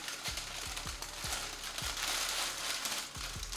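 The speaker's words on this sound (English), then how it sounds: "You have white tissue paper." White tissue paper crinkles and rustles steadily while a Nike Kobe Bryant Statement Edition jersey is unboxed, with repeated soft low thumps as the package is handled close by.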